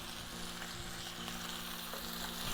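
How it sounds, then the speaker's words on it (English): Snow peas hit a hot pan in a vegetable curry stir-fry, giving a steady, close sizzle with a soft, even hiss that holds for a few seconds with no one talking. "let's add some snow peas in there"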